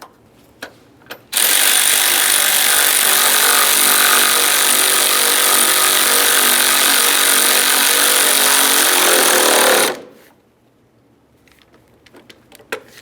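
A power tool runs loud and steady for about nine seconds, driving an 8mm headed bolt with a large washer into a vehicle, then cuts off with only faint handling noise before and after.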